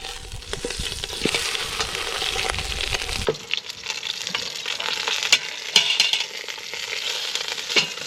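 Meat searing in a camp oven over a campfire, with steady sizzling and frying along with stirring and scraping. The sound is louder at first, then quieter sizzling continues with occasional sharp clinks.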